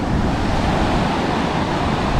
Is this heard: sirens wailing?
no